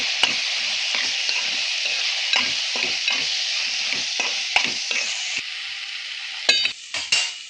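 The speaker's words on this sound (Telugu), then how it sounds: "బాగా కలుపుకోవాలి" Chili powder stirred into a frying tomato masala: a constant hiss of sizzling oil under a rhythmic series of close spoon scrapes against the pan, ending with a few louder clanks, no talking.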